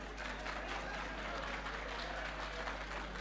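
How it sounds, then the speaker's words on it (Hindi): Audience applause for politician Chandrashekhar Azad at a public event, a steady dense wash of clapping from a crowd that holds for about three seconds, moderately distant. "तो एक बार जोर से तालियां चंद्रशेखर जी के लिए।"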